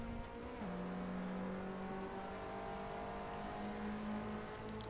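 A Nissan Pulsar mod car in Assetto Corsa with a steady, droning engine note that shifts pitch once and then holds a constant whine, heard on its own at moderate volume without talk.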